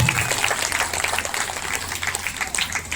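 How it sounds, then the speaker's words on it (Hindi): A crowd at a religious storytelling gathering at a school claps in a sustained, rippling round of applause, moderately loud and fairly distant, with no talking over it. "ताली तो बजाया करो गौरव जी के लिए"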